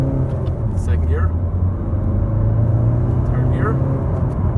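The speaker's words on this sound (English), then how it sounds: "So we're going to floor the car first, just see it acceleration wise." A 2018 Honda HR-V SEi-DTEC diesel accelerating hard at full throttle through the gears, a loud steady in-cabin engine drone with brief voices briefly over it.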